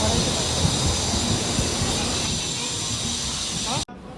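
Janshatabdi express train pulling out of a station, a loud continuous rumble of rolling wagons with hiss and a brief wheel squeal, people talking beneath it, then an abrupt cut near the end.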